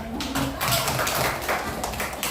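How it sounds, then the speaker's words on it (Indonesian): A classroom of pupils bursting into applause, dense scattered hand claps filling the room for a couple of seconds, fairly close and loud, with voices mixed in. "Tepuk tangan."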